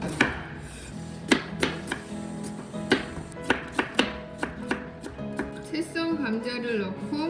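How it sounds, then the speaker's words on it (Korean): Potatoes, sprouts cut out and skin left on, being thinly sliced with a knife on a board: a steady series of sharp, close chopping taps at an irregular rhythm, with a voice speaking over the end. "감자싹에는 다 아시다시피 독성이 있어서 잘 도려내고 껍질째 얇게 썹니다."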